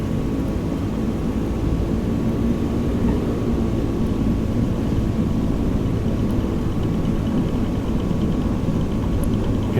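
A steady, loud engine roar from an airplane taking off on a runway in Microsoft Flight Simulator 2020, holding as one continuous drone for the whole stretch with no talking.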